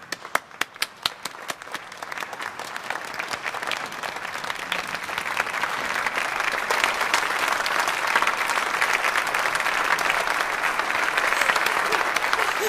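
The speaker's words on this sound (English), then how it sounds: "Clap, clap, clap." Applause at a French royal court performance, opening with a few separate claps that swell into steady, sustained clapping from an audience and hold loud to the end.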